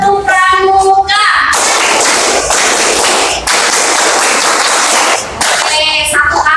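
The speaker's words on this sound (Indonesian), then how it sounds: "Iya, 1 kali tepuk pramuka." Children clap a Pramuka scout clap in a burst of rapid, loud hand claps lasting several seconds, with a teacher's voice speaking before and after.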